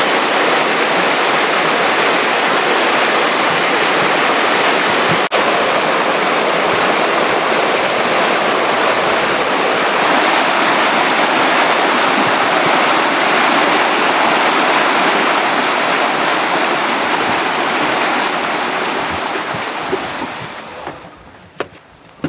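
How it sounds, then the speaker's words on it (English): A waterfall rushes below a high lookout, a loud, steady broadband roar that holds unbroken for most of the stretch before easing away near the end, with no voices over it. "There's actually the waterfall right below us."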